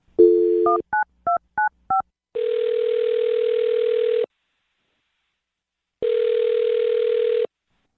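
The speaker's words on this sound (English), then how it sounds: "I'll dial her phone number right now then." A telephone number is dialed as a quick run of short DTMF keypad tones, followed by two long, steady ringback tones separated by silence, clear and close.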